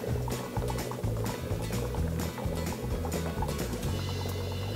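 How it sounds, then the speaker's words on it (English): Aeration bubbles rise and strike the underside of a styrofoam raft in a hydroponic floating raft system, a dense, continuous bubbling and gurgling of water that stays steady and close throughout. "that little sound that you hear, that's gonna be the air bubbles hitting that styrofoam on the bottom"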